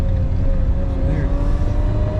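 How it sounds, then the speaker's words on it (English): A junkyard car's engine runs rough in the cold, unable to settle into a steady idle, a loud close droning rumble with a constant hum and slight uneven wavering throughout. "for some reason this car doesn't want to idle when it's cold out"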